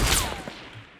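A single sniper rifle shot goes off in Fortnite, loud and sharp at the start, then a quick whizzing tail and an echo that fades over about a second, with no voices.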